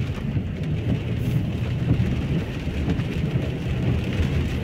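Heavy rain pouring down in Lewsey Farm, Luton, UK, a continuous, even rushing hiss with a deep low rumble underneath and no voices.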